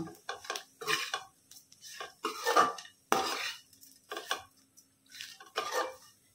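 Bitter gourd frying in oil with chili powder in a pan, heard as intermittent metallic scraping and clinks of a spatula stirring against the pan, several short bursts at an irregular rhythm, close and moderately loud.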